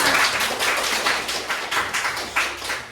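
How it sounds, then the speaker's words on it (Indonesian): An audience applauds after a speaker finishes a talk, with a short burst of dense, fairly close hand clapping that stays lively and irregular for a few seconds. "Oke, tepuk tangan."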